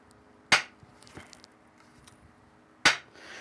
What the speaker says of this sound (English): The pitch of the hammer hitting the wood will change a little bit.